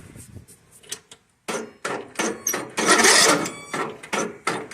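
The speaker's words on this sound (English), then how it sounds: "Does your mower sound like this when you try to start it?" Lawnmower engine cranking but failing to start, a series of rough chugging turnover bursts with short gaps, loud and close, one longer sustained crank in the middle.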